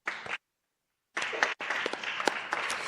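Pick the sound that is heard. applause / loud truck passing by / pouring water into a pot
applause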